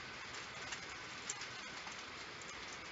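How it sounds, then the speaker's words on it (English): Hail pours down during a storm with lightning, a faint, steady hiss of countless small hits with a few slightly sharper taps, continuous and even, with no voices. "Now we are hailing, and there was some lightning."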